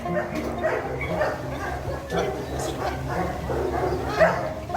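Several dogs bark and yip in scattered bursts at moderate distance at a dog training center, with whimpering mixed into a noisy outdoor background.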